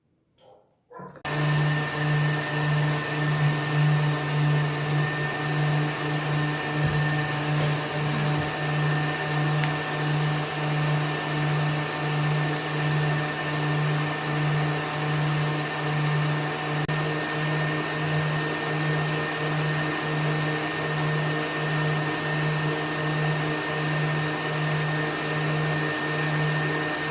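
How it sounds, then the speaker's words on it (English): A hooded hair dryer runs continuously, a loud steady whirring hum with a strong low drone, starting abruptly after a brief pause and holding unchanged throughout with no talking. "So I dried my hair with the hooded dryer"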